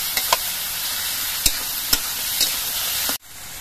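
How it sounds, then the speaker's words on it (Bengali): Chopped tomato and salt sauté in a pan for rohu fish curry, giving a loud, steady sizzle broken by several crisp spatula clinks before the sound suddenly drops away near the end. "এবার সব দিয়ে কিছুক্ষণ কষিয়ে নেব।"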